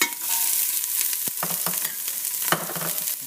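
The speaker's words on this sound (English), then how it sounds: "Nice little sizzle." Steady broadband sizzling of celery and vegetables frying in a pot for borscht, with a few brief clanks of stirring utensils over the hiss.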